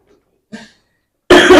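A short cough, then a sudden loud burst of coughing or throat clearing close up, with silence in between.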